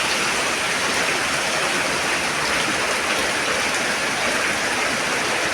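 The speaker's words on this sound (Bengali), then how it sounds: "বৃষ্টিতে পুরো তুফানের মতো হয়ে গেছে।" Heavy storm rain pours down in Dhaka in a steady, dense roar that never lets up, loud and close with no voices.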